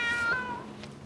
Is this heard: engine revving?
no